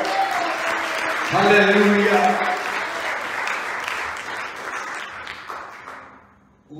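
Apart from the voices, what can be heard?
congregation applause in church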